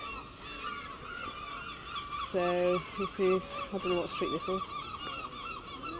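Seagulls call near the statues in Dundee, Scotland, with several loud, squawking cries in quick succession over street ambience while someone talks.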